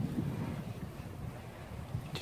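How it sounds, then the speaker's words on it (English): Wind blowing outdoors in a garden while adenium plants are pruned, a steady low rushing roar buffeting the microphone throughout, with no talking. "it's kind of windy today"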